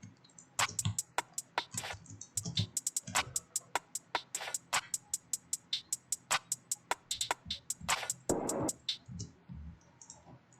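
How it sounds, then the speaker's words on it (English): A programmed drum beat with reverb from a full beat remake plays as a quiet, busy pattern of sharp, clicky hits at a steady tempo, with no voices. "So altogether, these drums sound like this."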